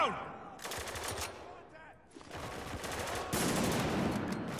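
Automatic gunfire and rifle bursts ring out in the war shooter Spec Ops: The Line, repeated rattling volleys close and loud, with a brief lull before the firing resumes more densely.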